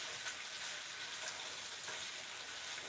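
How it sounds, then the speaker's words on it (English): Shrimp and salmon bites cook on low heat in a pan, giving a steady, soft, continuous sizzle with no pauses, close by and alone without talk. "So now we got our shrimp in here with the salmon. And we're gonna let it cook."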